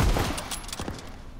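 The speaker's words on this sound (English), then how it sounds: "these gun sounds sound real" Rapid gunfire in Call of Duty: WWII, a quick burst of several sharp, fairly distant cracks over a second and a half with no talk.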